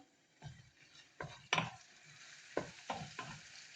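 Onion, garlic and chili sauté in oil in a pan, heard as a low sizzle broken by several sharp scraping stirs of a utensil against the pan, spaced irregularly and close by, with no voices.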